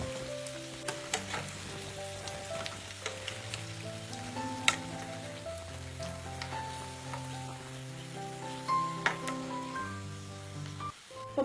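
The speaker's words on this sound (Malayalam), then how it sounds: "ബാക്കിയിരിക്കുന്നത് ഇതുപോലെ തന്നെ നമുക്ക് ഫ്രൈ ചെയ്തെടുക്കാം" Onion and wheat flour snacks deep-frying in hot oil give a steady close sizzle with scattered crackles and pops, a few sharper bursts standing out over the continuous bubbling hiss.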